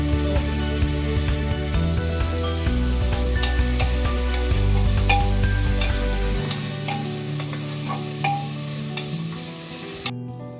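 Potato and carrot pieces sautéing in a pan for a vegetable kurma, loud continuous frying sizzle with frequent spoon stirs and scrapes close by, then a sudden cut at the end.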